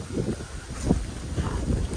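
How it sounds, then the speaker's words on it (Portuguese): Strong wind buffets the microphone in a steady roar with gusty swells, outdoors at a rural property in Taguaí, São Paulo, just after rain, with no clear talk over it. "Bastante vento, acabou de chover aqui."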